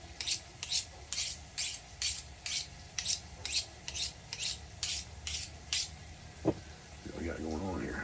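Rhythmic rasping strokes of a kitchen knife drawn along a ceramic sharpening rod at a hunting camp, about a dozen evenly spaced passes close up, followed by a brief clink and a short stretch of voice.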